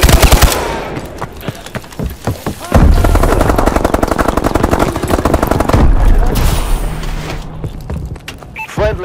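Automatic gunfire in Call of Duty Advanced Warfare, loud rapid bursts of shots with short pauses between them, close up and dominating the scene, with no talk.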